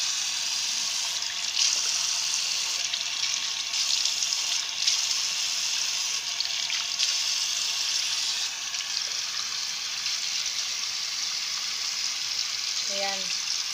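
Running water flows steadily from a tap in a hiss that stays constant throughout, as someone rinses a sugar lip scrub off their lips.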